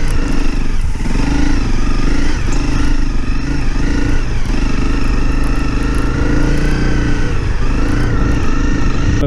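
An off-road motorcycle climbing a rut, its engine loud and close, droning steadily with slight revving surges and some clatter, no talking.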